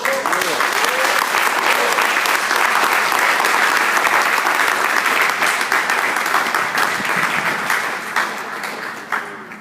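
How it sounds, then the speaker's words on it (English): Audience applause at a promotion ceremony: sustained, loud clapping from a crowd for most of the stretch, tapering into a few scattered claps and light murmuring near the end. "round of applause, please"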